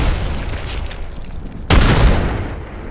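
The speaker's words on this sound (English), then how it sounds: "Woo, that's still gonna be a good nade." Grenade blast in the online shooter Apex Legends: a single sharp, loud explosion bursts in suddenly over low game ambience and then rumbles off over about a second.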